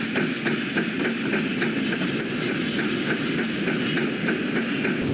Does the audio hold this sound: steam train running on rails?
yes